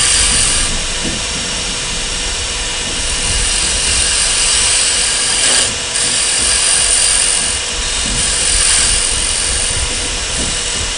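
A wood lathe turns a tenon on a small workpiece, giving a loud, steady, broadband whir with a high whine and a few brief cutting swells, alone without talk.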